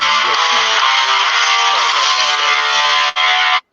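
An electronic alarm buzzer blares in one loud, steady tone for several seconds, cuts out briefly, then sounds again before stopping abruptly.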